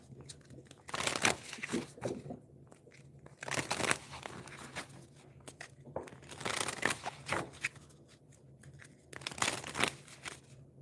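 Tarot cards are shuffled by hand in four separate bursts of crisp riffling and shuffling, each lasting about a second or two, with quiet pauses between and a soft background hum.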